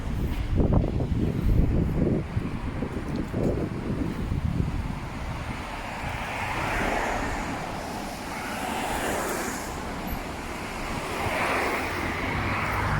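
Strong breeze blowing outdoors near an old castle tower, heavy buffeting wind noise on the microphone that is loudest at the start and then settles into a steady rushing roar, with no talking.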